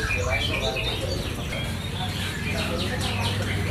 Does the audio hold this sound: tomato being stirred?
no